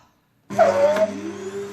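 An Altus vacuum cleaner motor starts abruptly after a brief silence and keeps running loudly with a steady whine and hum.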